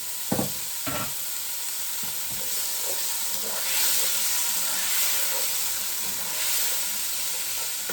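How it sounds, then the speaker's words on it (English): A pan of Jamaican-style callaloo and saltfish simmers with a steady hissing sizzle and soft bubbling, close and even, with a couple of light knocks near the start and no talking. "you leave it to simmer for like 2 minutes"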